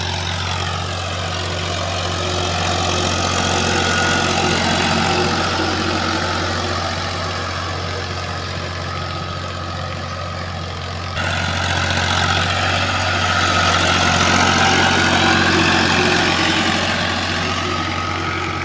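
A fully restored Ford 3600 tractor engine runs on its first test, a loud, steady, low humming drone that swells slightly partway through and continues unbroken, with no voices.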